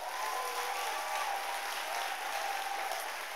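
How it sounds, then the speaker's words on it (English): A church congregation clapping their hands, a dense continuous patter of many hands at a steady level throughout, with no other sounds standing out. "I want somebody to clap and let me hear something."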